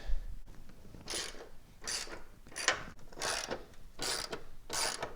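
A ratchet wrench loosens 12mm bolts on the hood of a Subaru STI in about six quick, close clicking bursts, with brief pauses between them.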